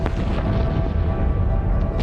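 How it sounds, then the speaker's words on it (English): Deep, rolling booms from the 1883 Krakatoa volcanic eruption form a steady, heavy low rumble. The sound is loud and sustained, with faint sharper pops near the start and end. "A series of booms could be heard hundreds of miles away."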